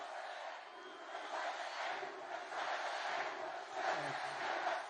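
A large crowd at a political rally cheers and shouts in rolling swells, loud and sustained, with chanting surges rising and falling and no single voice standing out.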